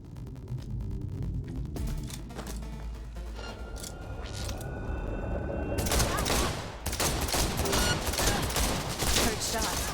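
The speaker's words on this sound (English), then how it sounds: "Heard shots." Rapid bursts of gunfire from a firefight in the video game Cyberpunk 2077 crackle in quick, overlapping volleys, intensifying partway through and mixed with other game effects.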